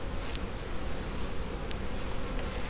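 A dense, close swarm of honeybees buzzes loudly and continuously after being shaken out of a package onto a hive box, with a few faint clicks and no talking.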